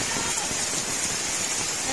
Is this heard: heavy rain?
yes